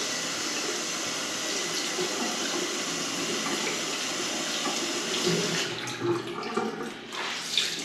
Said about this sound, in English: I've got a fresh clean towel and I'm just gonna put some hot water on it